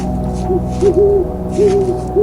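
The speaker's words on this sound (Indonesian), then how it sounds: "Dari kejauhan terdengar suara burung hantu melengking tajam" A series of sharp, high owl hoots, three separate calls with pauses between them, fairly clear over a steady low background hum.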